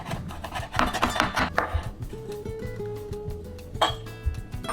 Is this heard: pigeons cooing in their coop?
no